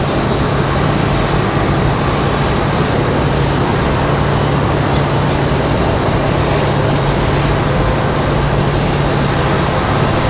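A loud, continuous jet roar with a low steady hum comes from an airplane arriving at Raleigh Durham from Stewart, Florida. No one speaks.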